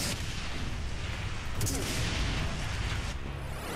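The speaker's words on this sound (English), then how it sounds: "Have a grenade." A grenade blast in the Brutal Doom shooter, a loud rumbling burst of explosive noise with sharp bangs around the middle, heard amid continuous gunfire and game chaos.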